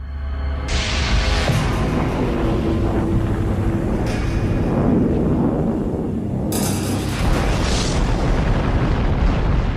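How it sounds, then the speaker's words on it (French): An Everest-sized asteroid striking Mexico's Yucatán peninsula, rendered as a loud rolling explosion: a deep sustained boom with crackling bursts that flare at about one, four and seven seconds, no voices. "un astéroïde de la taille de l'Everest a percuté la péninsule du Yucatan au Mexique, avec l'énergie d'une bombe de 100 millions de mégatonnes"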